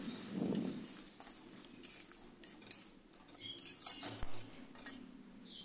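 Vegetables with tomato paste are stirred in a pan, giving quiet scraping and clinking of a utensil against the metal with a few sharper taps, faint and close, with no voice.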